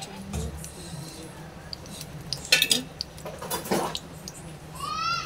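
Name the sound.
adding two spoons of oil into a kadai on the gas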